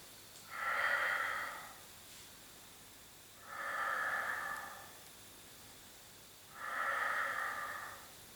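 During a Pilates exercise, three slow, steady breaths rush audibly through the mouth and nose, each a soft airy whoosh lasting about a second, evenly spaced and close, with near silence between them.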